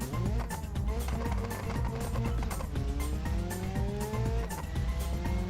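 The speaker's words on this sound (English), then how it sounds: "Okay, I'm gonna launch it." A modded Ibishu Covet fitted with two engines, one in the front, launches hard in a video game. A loud, continuous engine roar climbs steadily in pitch through the gears with tire squeal mixed in, and there are no pauses.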